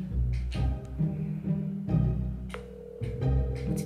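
A ringback tone sounds on an outgoing telephone call, heard through a phone speaker in a room, with repeated tonal pulses and a steady tone over faint background sound.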